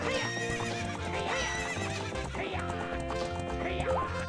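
Epona, the horse from Zelda: Ocarina of Time, whinnies in rising, wavering calls over steady galloping hoofbeats, set against dense game music that fills the whole stretch.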